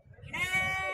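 A goat kid at a weekly livestock market gives a single short, faint bleat that rises out of low background noise.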